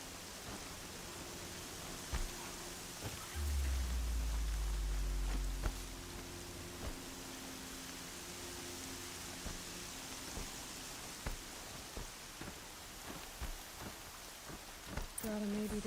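Steady rain falls in the video game Horizon Zero Dawn, a soft continuous wash with a low rumble partway through, faint sharp clicks scattered across, and no talk over it.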